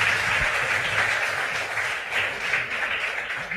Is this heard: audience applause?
yes